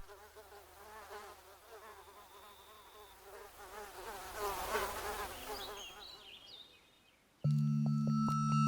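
Drosophila fruit flies buzz near and then farther off as thin, wavering insect whines rise and fade, ending in an abrupt steady tone.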